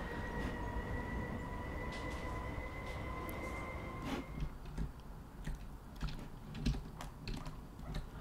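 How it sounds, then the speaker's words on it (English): A C301 train with MLR sound in Minecraft Transit Railway, on a Macau Light Rapid Transit line, gives a steady droning run with a held tone that cuts off midway, followed by scattered light clicks and knocks. "Navi is saying that's a C301 with MLR sound, if you can hear it on the video"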